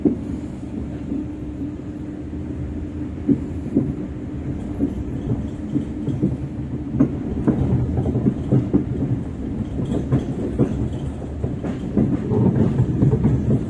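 A commuter train rumbles along the rails as it approaches Kampung Pandan station, with a steady low roar and irregular clickety-clack wheel knocks heard from on board, continuous and fairly loud throughout.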